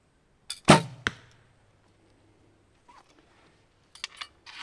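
An arrow leaves a recurve bow in a backyard archery round, a sharp snap and thump followed by a fainter knock, then quiet until a few light clicks near the end.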